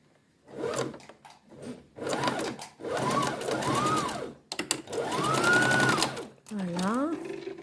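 A sewing machine stitches elastic into a fabric face mask, running in several bursts of steady mechanical whirring with short pauses between them, while a person talks throughout.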